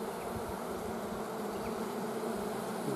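Honey bees buzz steadily across an open hive, a dense, continuous hum that stays close and even throughout with no voices.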